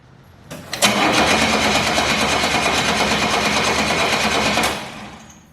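An old engine on a 51-year-old machine cranks with the gas pressed, a loud, fast, even rhythmic chugging that runs steadily for about four seconds and then stops.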